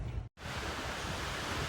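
Strong wind blows outdoors beside a 2001 Saturn SC2 under repair, a steady broadband roar buffeting the microphone throughout, with one brief dropout near the start.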